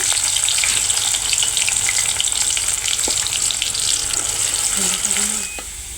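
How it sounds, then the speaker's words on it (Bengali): Garlic sizzles and fries steadily in hot oil in a pan while greens are being prepared, a continuous close crackling hiss with small spits and pops. A brief clink comes near the end. "রসুনটা ভালো করে ভেজে নেব"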